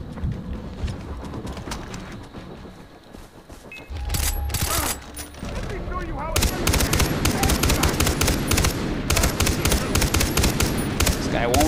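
Gunfire in the video game Far Cry 3: scattered shots give way to a heavy run of rapid automatic bursts, loud and close over a low game soundscape.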